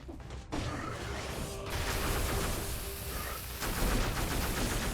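A cannonball turret fires repeatedly in the 2D action game Dead Cells, heavy booming shots layered over a dense, busy mix of combat noise that stays loud from start to finish.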